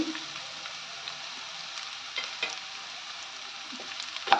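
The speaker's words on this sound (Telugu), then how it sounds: "ఇక్కడ ఆనియన్స్ ఫ్రై అయిపోయినాయండి. ఇప్పుడు మనం ఆ కాకరకాయల ముక్కలు వేసుకోవాలి." Bitter gourd pieces frying with onions in a pan give a soft, steady sizzle, with occasional light scrapes and taps from stirring close by.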